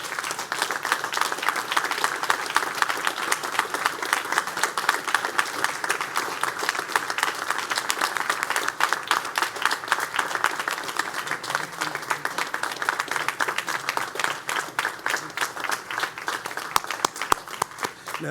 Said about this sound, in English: I want all of us to really stand and give Master Police Officer Gale Karabeika a round of applause